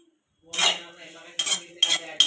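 A spoon stirs dal in a metal cooking pot, giving four quick, close scraping clinks against the pot's sides in a quiet kitchen.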